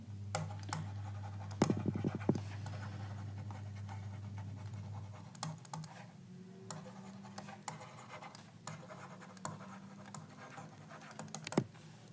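Equations written by hand during a physics lesson on atoms, heard as soft tapping and scratching strokes in irregular bursts under a steady low background hum, close but faint, with no talk.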